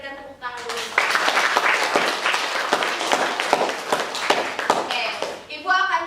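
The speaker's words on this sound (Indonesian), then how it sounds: "Kita berikan tepuk tangan dulu." An audience at a university teaching-certification simulation session claps for several seconds, dense and close, tailing off as a voice resumes speaking at the end.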